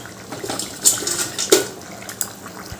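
Fried koftas go into boiling gravy in a kitchen pan, making close, wet plops and splashes with sharp clinks of a utensil against the pan over a low simmer.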